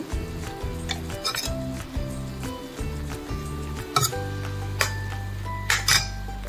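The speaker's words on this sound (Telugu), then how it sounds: "ఇప్పుడు పాకం అంతా కలిసేదాకా కలుపుకోవాలి." A spoon stirs thick jaggery syrup in a metal pan, scraping and clinking against the sides in a steady repeated rhythm, close up, with sharper metallic knocks toward the end.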